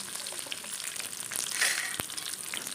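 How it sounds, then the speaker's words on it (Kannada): Mustard seeds and curry leaves fry in hot oil for a fish sambar, a close, bright hiss with scattered crackles and pops that swells midway, with one sharp tap near the end. "ಎಣ್ಣೆ ಕಾದಾದಮೇಲೆ ಒಂದೆರಡು ಸಾಸಿವೆನೂ, ಕರಿಬೇವಿನ ಸೊಪ್ಪು, 4 ಎಲೆ ಕರಿಬೇವಿನ ಸೊಪ್ಪು ಹಾಕ್ಕೊಂಡು ಹಾಗೆ ನೀಟಾಗಿ ಫ್ರೈ ಮಾಡ್ಕೋಬೇಕು."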